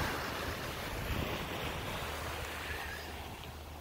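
Ocean surf washes continuously onto Seven Mile Beach, a broad steady roar of breaking waves mixed with wind noise on the microphone, no voices.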